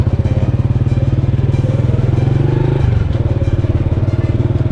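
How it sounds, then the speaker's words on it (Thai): A motorcycle rides along a concrete road, its engine putting out a loud steady throbbing drone close by, with a brief rise in pitch near the middle. "ขี่รถลงไปอีกพี่น้อง"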